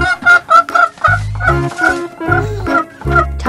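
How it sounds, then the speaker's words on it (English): A chicken clucks in quick repeated bursts, close and loud, with a low thumping rhythm underneath. "Chicken."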